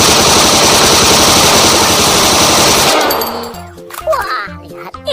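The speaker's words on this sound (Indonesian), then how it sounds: "Wow, Squid Game gun." A Squid Game toy gun fires a loud, rapid machine-gun-style burst for about three seconds, then gives way to sparser electronic beeps and tones.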